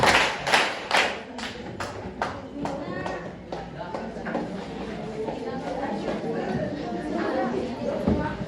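A group of people clap together in greeting, loud sharp claps repeating in a quick burst early on, then thinning into scattered taps under steady chatter and talking voices.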